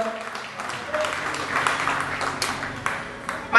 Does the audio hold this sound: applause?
yes